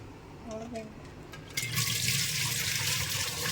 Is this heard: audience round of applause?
no